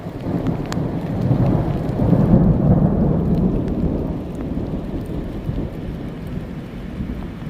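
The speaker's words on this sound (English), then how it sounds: "it got cloudy, and then very soon an electrical storm started." An electrical storm in the mountains brings steady, heavy rain and a low, rolling rumble of thunder that swells and then fades, with no voices.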